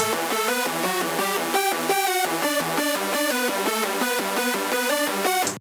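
Layered synth leads, a bright trance-style pluck stacked over a thick saw, play a busy repeating melodic pattern at a steady, loud level.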